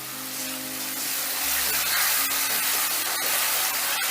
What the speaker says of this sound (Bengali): এবার আদা আর কাঁচা লঙ্কাটাকেও একটু কষে নেব